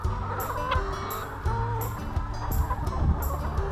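A flock of hens on a chicken farm in Uddeholm, Värmland, Sweden clucks and chatters close by in overlapping bursts and squawks, busy and continuous.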